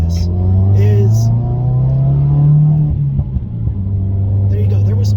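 Newer Subaru WRX or STI idling with a steady low exhaust rumble, a brief revving surge while upshifting with faint crackling pops, then settling back to a deep idle; nearby voices talk briefly over it.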